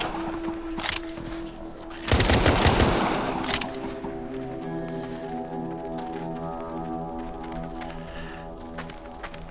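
Shots ring out in a zombie shooter at a locked gate, a loud burst of gunfire around the two-second mark standing above steady background game noise, with a few sharper cracks before it.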